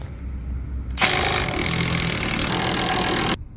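A power tool, likely an impact wrench, runs in one sustained loud whir of about two seconds close by, removing the bolts that hold the vertical link to the knuckle and lower control arm on a 2024 Mustang.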